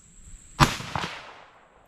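A single rifle shot from a 22 Dasher firing an 88 grain load at a range, a sharp loud crack followed by a short echoing decay, with no talk.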